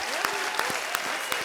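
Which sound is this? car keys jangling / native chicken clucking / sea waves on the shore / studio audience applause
studio audience applause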